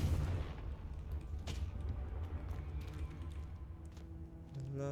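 A Confringo blasting spell explodes in Hogwarts Legacy, a deep booming blast at the start that rolls into a sustained low rumble and crackle for several seconds.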